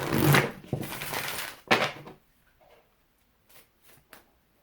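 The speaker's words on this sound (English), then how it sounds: "I'm going to shuffle from the Natural Enchantments deck" A deck of Natural Enchantments oracle cards being shuffled by hand, two dense riffling bursts close up in the first two seconds, then a few faint card taps and slides in near silence.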